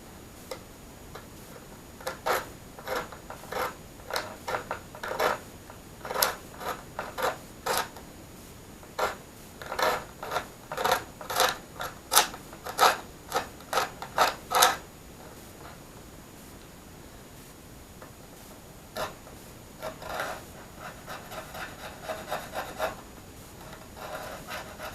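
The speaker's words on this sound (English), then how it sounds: "We keep scraping." Close, dry scraping on a DLG glider wing in repeated bursts of short rasping strokes, denser in the first half, then sparser with quiet gaps.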